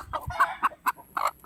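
A mother hen with chicks clucks in a series of short, uneven bursts, close by and moderately loud, with brief pauses between calls.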